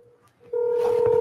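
Telephone dialing tones as a call is placed: a faint tone at first, then a loud, steady, close tone held alone with no talking.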